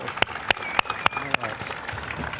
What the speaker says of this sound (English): I'd like, if we could, give one last round of applause both to Sergeant Major Dobbins and Sergeant